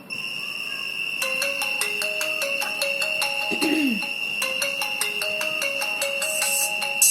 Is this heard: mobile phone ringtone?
yes